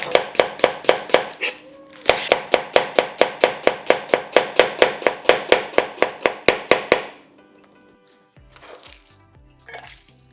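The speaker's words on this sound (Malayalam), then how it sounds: "ഈ സവാള തൊലി കളഞ്ഞ് വളരെ തിന്നായി സ്ലൈസ് ചെയ്തെടുക്കാം." Peeled onion being sliced thinly with a knife on a board, a fast, even run of about twenty crisp close chops over roughly five seconds, then quiet with faint handling noises.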